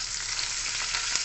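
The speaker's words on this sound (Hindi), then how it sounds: "इसी में मैं डालूंगी प्याज, इसको भी ब्राउन फ्राई करेंगे हल्का हल्का" Onions browning gently in a pan for kadhai paneer, giving a steady, dense sizzle that holds even throughout without pauses, close and fairly loud with no voices.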